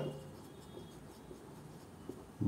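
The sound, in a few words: chalk or pen writing on a board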